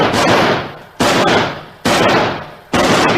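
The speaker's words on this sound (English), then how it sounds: "He's firing! He's firing!" Three sharp, loud rifle shots fired in an even rhythm, each cracking out and decaying into a long rumbling echo, close and alone with no voices, as part of a dramatised firefight outside a garage.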